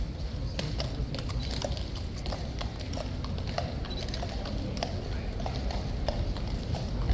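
Horses' hooves clip-clop steadily across a yard at the King's Guard on Good Friday, a continuous busy patter at moderate distance over crowd murmur.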